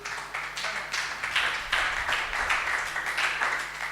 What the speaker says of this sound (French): Give the Lord a hand of much praise.